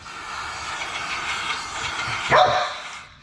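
A single sharp dog bark breaks out near the end over a steady, loud mechanical rumble from a 400 hp turbo Hayabusa engine running on methanol, filling the whole clip.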